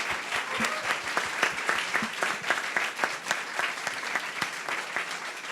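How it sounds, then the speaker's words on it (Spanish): Audience applause at a bookstore lecture, a moderate round of many hands clapping at a steady, even density, heard alone without talk. "Así es que otro aplauso."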